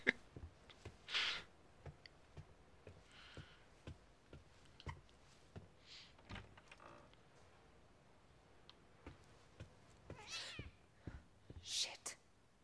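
A black cat meows in The Medium video game, two or three short cries spread out over a quiet stretch with soft ticks and other faint game sounds, while someone talks over it.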